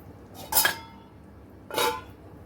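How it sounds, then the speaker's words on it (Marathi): A knife cuts set poha dubuk vadi pieces on a plate or tray, producing two separate clinks of metal against the dish, close and fairly quiet, with no talk. "आता आपण वड्या कापून घेऊया."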